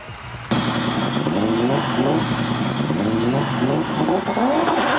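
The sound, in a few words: Mercedes-Benz 190E car accelerating from the start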